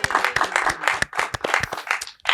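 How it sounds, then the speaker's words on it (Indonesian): Applause for a guest speaker at an Indonesian talk show: a short burst of close, loud hand clapping from a small audience, dense and uneven throughout, with no talking over it. "tepuk tangan untuk narasumber kita"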